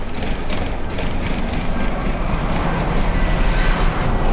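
A car engine with a mass airflow sensor problem runs roughly as it struggles to hold an idle, a loud, close, broadband rumble that wavers slightly without clear revs.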